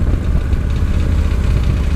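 A loud motorcycle engine idles up close, a rough, throbbing low rumble with an even pulsing beat that holds steady throughout, with no talk.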